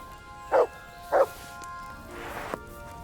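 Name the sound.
dog barking in Kingdom Come Deliverance 2 video game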